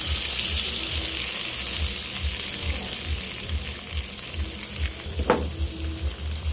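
Eggs frying in a hot pan with tinapa smoked fish, a loud continuous sizzle with a brief scrape as they are spread, close up and without talk.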